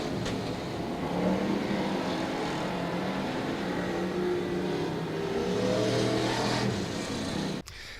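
A Pure Stock race car accelerating off turn 4 at a dirt-track race, the engine rising and falling in pitch as it passes, loud and continuous, ending with a sharp click.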